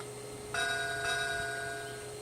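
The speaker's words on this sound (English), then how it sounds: "Try the bell." Bell sound effect from the onboard speaker of a model lake freighter, Saginaw, two quick metallic rings about half a second apart that fade away gently over a low hum.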